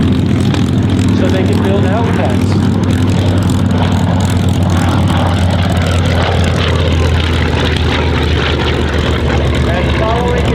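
A TBM Avenger WWII warbird flies at an airshow, its heavy propeller engine a steady loud drone throughout, with an announcer talking over it.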